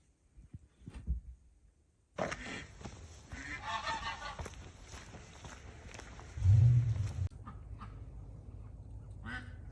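A goose honks on an Alaskan homestead in spring, with a few faint sounds at first, then a sustained run of loud, harsh honking calls nearby, followed by quieter background noise.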